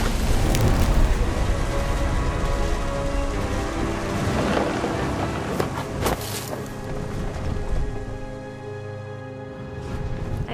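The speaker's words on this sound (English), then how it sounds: "The thunder sounded much too close and full of angry power" Stormy weather in What Remains of Edith Finch: steady rain pours throughout with low rumbling thunder swelling underneath and a few sharper cracks, dense and continuous, without voices.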